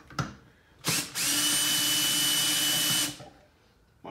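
A cordless power drill with a 13 socket spins briefly twice, then runs in one steady, loud burst of about two seconds while valve springs are being installed on LSX cylinder heads.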